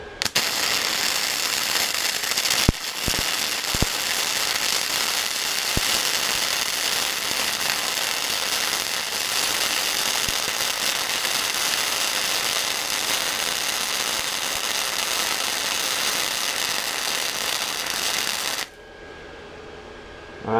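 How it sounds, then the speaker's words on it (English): Flux-core welding with a Titanium Easy-Flux 125 welder, a loud, steady crackling hiss held for about eighteen seconds with a few sharp pops, then stopping abruptly. "So we're gonna try to weld with that gap as well and just see how it performs."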